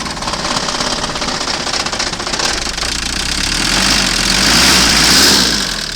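A 4x4 engine that has just been started runs at a rough, uneven idle, with a loud knocking chatter that swells slightly toward the end.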